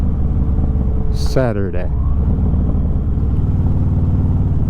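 Harley-Davidson motorcycle engine rumbling steadily while riding on the road, a low continuous drone with wind noise throughout, someone talking briefly over it near the start.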